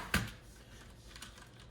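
A single crisp keystroke on a Das Keyboard 4 Professional for Mac with Cherry MX Brown switches, fairly quiet and close, followed by faint low clicks and near-silence.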